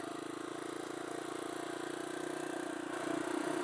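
A KLX170 big bore motorcycle engine being broken in on a ride runs steadily at mid revs, with a continuous close hum whose pitch shifts slightly near the end as the speed varies.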